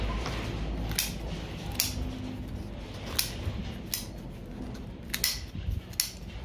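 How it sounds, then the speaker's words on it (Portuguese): Scissors trim away overhanging material at a dish drainer, giving a series of crisp, separate snips about a second apart over a soft background, close by with no speech. "podemos cortar mais aqui, ó, tudo que está saindo fora do escorredor, nós vamos eliminar"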